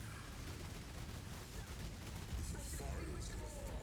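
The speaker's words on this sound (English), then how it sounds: "Explosion." Explosions and gunfire-like blasts from an action role-playing game, heard as a dense, continuous roar of bursts and pops without pause, with a few sharper hits near the end.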